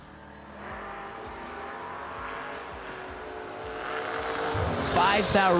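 Drag racing cars, one of them a Camaro, launch at a footbrake drag race, engine roar building steadily and growing loudest toward the end, with a commentator's voice over it.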